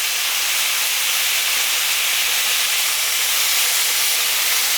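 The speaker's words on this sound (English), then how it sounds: "since these slices are a bit thicker, I did let it sear for about 3 minutes" Thick slices of skirt steak sear in a hot pan, giving a loud, continuous sizzle and hiss that stays even from start to finish with no talking.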